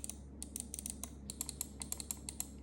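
The switches of a Keychron M3 wireless mouse click in a quick run of a dozen or more sharp, close, light taps, some in rapid pairs, over a quiet room with no talk.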